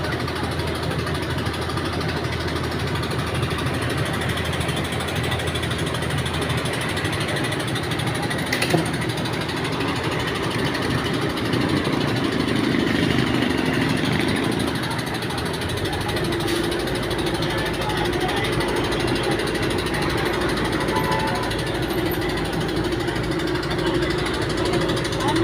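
A water pump motor drones steadily for the whole stretch, a continuous mechanical hum with rumbling undertones and faint background voices.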